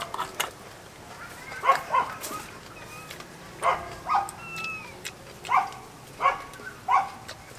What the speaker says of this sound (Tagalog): Medyo may background po tayong aso para organic ng konti ang datingan.